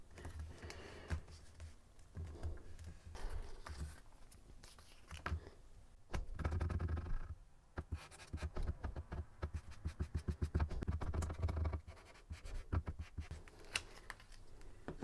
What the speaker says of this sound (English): take my book cloth that I'm going to be putting my spine, and fold that in half so we can find the center of it